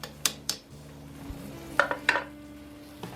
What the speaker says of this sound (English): I'm going to take my seared up pork and get him into the pot.